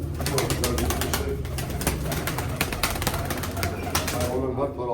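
Racing pigeons at a loft fill the air with a dense, continuous flutter of wings and soft cooing, with rapid repeated flapping bursts throughout and a faint background hum.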